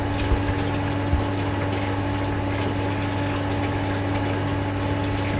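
A pump pushes water steadily into a measuring tank in a Venturi meter flow experiment, a constant droning hum with running water, loud and unchanging throughout.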